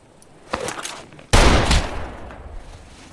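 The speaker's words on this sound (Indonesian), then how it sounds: "tiba-tiba Ketchum mengangkat pistolnya dan membunuh Al" Pistol gunfire from a cowboy film: a lighter shot, then a sudden loud, close blast with a long rumbling echo that fades over a couple of seconds.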